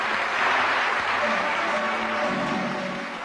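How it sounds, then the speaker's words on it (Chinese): A theatre audience breaks into thunderous applause after a Dunhuang music and dance performance, a thick, sustained wash of clapping that swells early and holds steady, loud and enveloping. "暴风雨般的掌声响彻剧场。"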